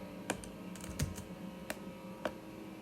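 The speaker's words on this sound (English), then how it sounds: "here we just start typing in whatever they want" Computer keyboard typing, entering text into a field, heard as a few sparse, separate key clicks against a quiet room hum.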